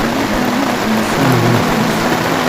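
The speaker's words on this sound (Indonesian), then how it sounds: "Dibantai hujan deras." Heavy rain pours down steadily outdoors at Gunung Sibayak, a dense, loud, even hiss filling the whole moment with no break and no voices.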